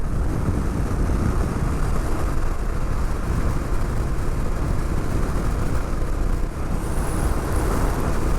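A 2023 Honda XR650L motorcycle with Stage 1 mods lugs uphill, its engine a loud, steady low rumble mixed with constant wind noise from riding.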